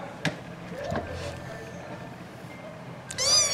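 A tiny high-pitched mew from a three-week-old kitten sounds briefly near the end, preceded by faint rustling and soft background noise.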